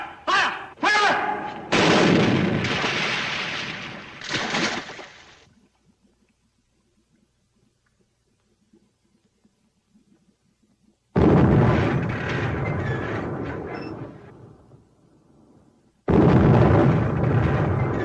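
Bursts of gunfire and explosions in a 1943 World War II US Navy submarine war film, loud heavy blasts in clusters at the start, a quiet lull, then sustained loud rumbling barrages returning.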